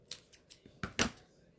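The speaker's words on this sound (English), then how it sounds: "Okay, so now I'm just going to cut it at a little diagonal." Scissors snip ribbon at a diagonal while a Texas homecoming mum is being made. Several light, close snips lead up to a louder double cut near the end.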